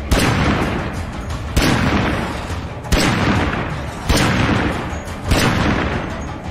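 Five heavy gunshots fire at a slow, steady pace, each a sharp boom over a constant loud rumbling background, from zombie combat in the video game State of Decay 2.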